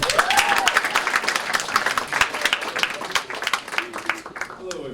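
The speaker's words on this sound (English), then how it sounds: "if we could give Stephen a big round of applause" Audience applause for a performer at a live evening event, steady dense clapping with some voices from the crowd mixed in throughout.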